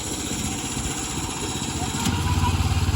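A 15 HP Ford Model A engine on a go-kart runs steadily nearby, a rough, throbbing mid-pitched drone that grows louder and pulses faster as it revs toward the end, with faint voices beneath.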